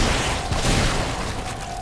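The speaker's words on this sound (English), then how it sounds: "I got really lucky with that shotgun blast" A shotgun blast in The Evil Within horror game tears through a group of enemies, a loud dense burst of noise that fills the whole short moment without any talk.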